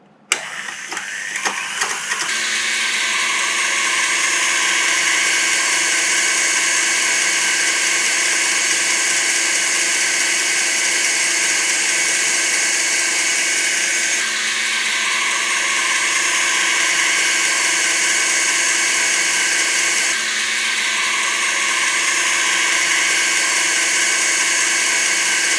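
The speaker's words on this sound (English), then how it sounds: "now I'm just going to beat on medium-high speed until I have the meringue formed" Electric hand mixer running at medium-high speed whipping eggless Swiss meringue, a continuous loud whine close by, steady over a long stretch with slight dips in pitch as the beaters move through the bowl.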